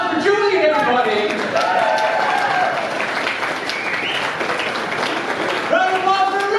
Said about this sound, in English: Round of applause for Julian, everybody.